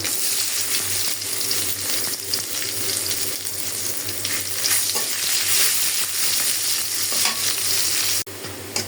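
Onion and garlic with whole cumin and black cumin seeds sizzle steadily in hot oil while being stirred, a dense continuous frying hiss with no voices, cutting off abruptly near the end.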